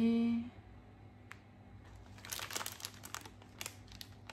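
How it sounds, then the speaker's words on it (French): Dry packaging paper crinkles and rustles in bursts close by while craft beads are unpacked, a brief tonal note at the start, then scattered crackling peaks through the rest. "désolée pour le bruit du papier"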